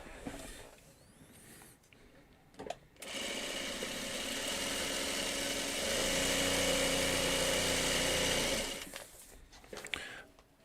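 A sewing machine whirs in a single sustained run of about six seconds, steady and fairly loud, framed by quieter handling clicks and rustles before and after.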